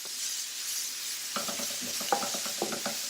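Chopped celery stalk and finely chopped parsley sizzling in a pot for a one-pot chickpea stew, a steady frying hiss joined partway through by several close scraping stirs and light clinks of a utensil.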